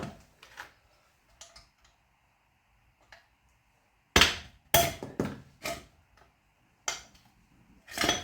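A hammer strikes a car ABS pump in a workshop, giving sharp, close metallic knocks, a few light taps at first and then a cluster of heavier blows spaced about half a second apart, with quiet gaps between them.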